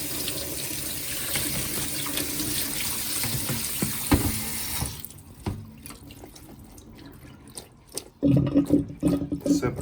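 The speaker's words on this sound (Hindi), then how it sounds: "और साथ ही इसको ठंडे पानी के नीचे" Cooked pasta rinsed under a cold kitchen tap, a steady close hiss of running water for about five seconds, then quieter drips and splashes before the flow surges loudly again near the end.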